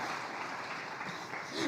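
A church congregation applauds in a steady, dense wash of clapping that holds at an even level for the whole stretch.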